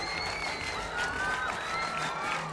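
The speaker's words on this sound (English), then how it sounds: "We're now clapping in unison." At a Nepal versus Scotland cricket match, a large stadium crowd claps in unison, heard as a distant, steady roar of hands with whistles and cheers on top.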